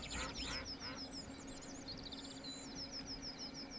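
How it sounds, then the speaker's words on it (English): Ducks quack in Second Life, a run of repeated, rhythmic calls at moderate volume over a steady background ambience. "there's the ducks want to take over the tour"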